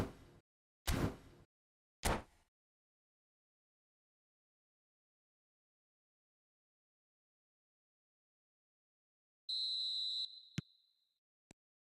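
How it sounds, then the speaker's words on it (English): In the eFootball video game, a referee's whistle sounds a single sustained shrill blast to start the second half, followed by a couple of sharp clicks, after two brief thuds early on and long silence. "Whistle goes, and we start the second half."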